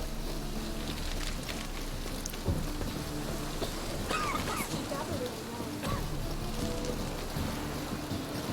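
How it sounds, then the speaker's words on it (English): Steady rain falls in The Witcher 3, a soft even hiss of drops on surfaces holding a quiet level throughout, with brief scattered sounds and a bit of speech over it. "It's raining again."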